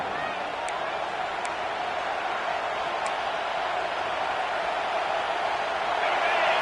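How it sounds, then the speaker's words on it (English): A college football stadium crowd roars steadily on a third-down defensive stand at a Hawaii game, the dense cheering rising slightly toward the end with no break. "Decibels rising as the crowd gets behind this defense on third down."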